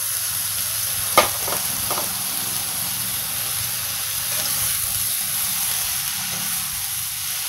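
Water spinach being stir-fried with seasoning in a hot pan for a vegetarian beef-style dish, a steady loud sizzle and hiss throughout with a few brief clinks of a utensil early on.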